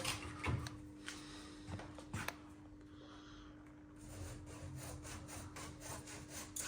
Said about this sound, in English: An hacksaw is a good saw to use, not a wood saw because it's plastic. I'll cut through like so